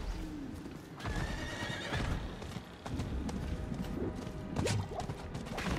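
Horse in the Diablo 4 video game whinnying as its hooves clip-clop steadily and close by, with faint bursts of other game effects.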